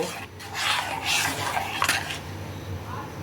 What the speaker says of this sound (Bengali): এই সব কিছু দিয়ে তাকে ভালো করে মিশিয়ে নেব।